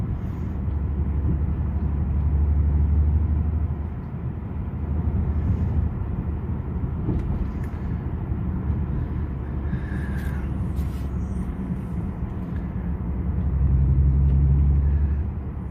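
A car engine misfiring while running in fourth gear, a steady low rumble that swells louder twice, with no talking.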